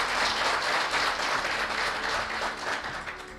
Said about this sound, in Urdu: آپ کے لیے بہت بہت تالیاں